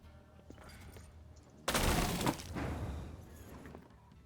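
Bombardment gunfire in a tank warfare game, a sudden loud burst of booming impacts after a quieter rumbling bed, then a rolling decay into distant rumble, with no speech.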